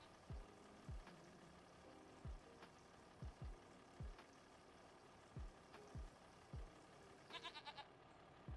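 Goats bleat in the video game Farming Simulator 25 on a farm field, short calls repeating every second or so, quiet against a low background hum.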